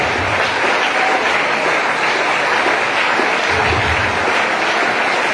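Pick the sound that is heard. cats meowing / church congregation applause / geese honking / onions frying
church congregation applause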